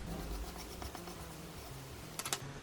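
Pencil drawing lines on paper while making a paper iris flower craft, heard as faint, quiet scratchy strokes with brief sharper scrapes near the end.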